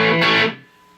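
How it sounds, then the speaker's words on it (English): Electric guitar through a Danelectro Daddy O distortion pedal set for full-blown distortion, one loud, dense chord that rings briefly and then fades to a soft hum. "it works as a full-blown distortion"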